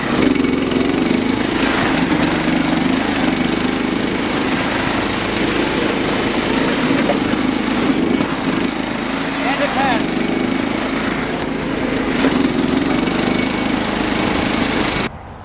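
A John Deere lawn tractor engine runs steadily and loudly the whole time, a continuous rough drone that cuts off near the end; a voice is heard briefly over it.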